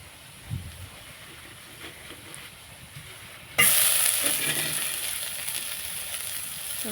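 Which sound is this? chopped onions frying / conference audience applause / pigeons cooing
chopped onions frying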